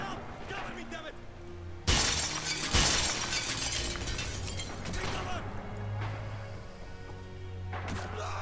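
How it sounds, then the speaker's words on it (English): Windows shatter in the Red Orchestra 2 war game: a loud glass crash, then a second smash a second later, followed by lingering breaking debris, with players talking over it. "It's smashing a lot of windows though."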